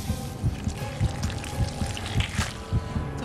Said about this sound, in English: Light throws the salt water at Hanahiko.